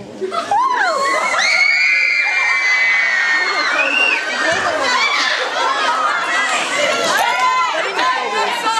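A crowd screams and shrieks loudly, high-pitched excited cries overlapping continuously, with cheering and chatter mixed throughout.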